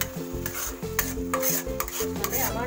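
Carrot halwa cooked down in ghee is stirred and pushed around a pan, giving repeated close scraping and stirring strokes over a soft sizzle, with no talking.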